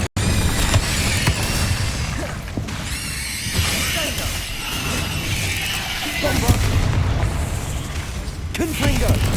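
Confringo and Incendio spell blasts burst in rapid succession in Hogwarts Legacy, dense booming and crackling impacts layered with game voices calling out the spells.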